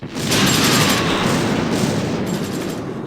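Dense war video game battle with loud continuous gunfire and explosions blending into a sustained roar of overlapping shots and blasts for about three seconds, close and loud, with no speech.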